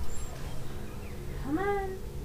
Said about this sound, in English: My cat has come to bother me some more.